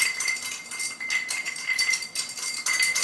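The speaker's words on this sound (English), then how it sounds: "Let's get this a nice stir." A spoon stirs an old fashioned cocktail over a big ice cube in a glass, giving a continuous close rattle of ice and glass clinks that swells and eases in waves.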